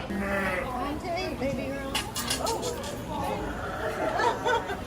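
Goats and sheep bleating at a petting area in a zoo park, several wavering calls close by over a steady murmur of chatting visitors.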